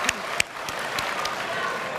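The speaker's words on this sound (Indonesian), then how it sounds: "Boleh tepuk tangan dulu?" An audience claps for a couple of seconds at a panel event, the applause dense and fairly faint, with a few sharper individual claps standing out.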